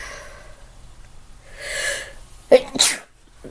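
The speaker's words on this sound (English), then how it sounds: "I feel like I have to sneeze, so hold on just a minute." A sharp sneeze in two quick bursts, the first a short catch and the second louder, preceded by a breathy inhale. Close and clear, with no talking.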